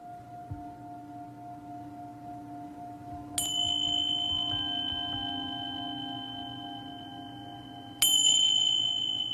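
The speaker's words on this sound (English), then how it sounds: "you'll hear some music and some bells." Two bright bell strikes ring out over soft sustained background music, each leaving a long shimmering decay, the second arriving several seconds after the first.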